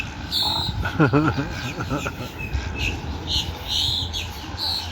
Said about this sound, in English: A lot of birds.